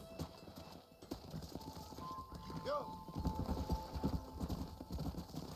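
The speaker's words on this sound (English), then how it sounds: "Este es mi caballo." Horse hooves clip-clop steadily in Red Dead Redemption, with a brief whinny partway through, under someone talking.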